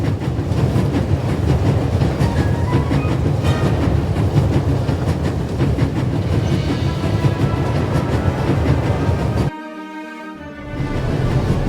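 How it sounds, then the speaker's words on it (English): Train travelling on rails in the video game The Raven, a loud steady rumble and rhythmic clatter of wheels that drops out briefly near the end, with no talking. "There's nothing quite like traveling on a train."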